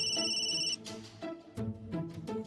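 A telephone ringtone plays in a household scene, a repeating musical ring with steady bursts, fairly faint and heard alone without talk.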